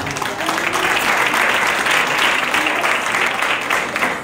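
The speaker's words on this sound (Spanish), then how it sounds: "una ofrenda de palmas al Señor" A church youth service congregation offers loud, sustained hand clapping, a thick, even wash of many hands applauding nearby with no break, faint voices buried beneath.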